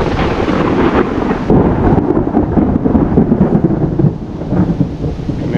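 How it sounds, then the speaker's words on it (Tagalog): Deep rolling thunder rumbles continuously through steady rain and gusty wind, loud and close throughout. "Kulog."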